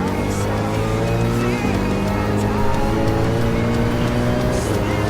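Racing cars at full throttle, a Jaguar slipping up the inside of a rival into a tight hairpin, engines droning loud and close with shifting pitch throughout, no voices.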